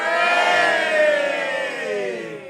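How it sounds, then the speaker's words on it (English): Many voices in a big roundhouse hall let out a loud, unified cheer, a drawn-out group shout that holds steady, then dips gently toward its end. "Maybe a big cheer for this mob if they can hear us"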